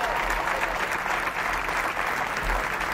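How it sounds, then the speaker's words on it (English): A crowd at a 101st Airborne Division change of command ceremony applauds steadily, a broad even wash of clapping heard from a moderate distance without pause. "Let's give a round of applause for Sergeant John Dick."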